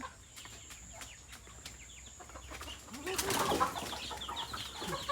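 Chickens and ducks being fed on a farm cluck and squawk in scattered bursts, with wings flapping and a louder flurry partway through, all fairly faint and outdoors.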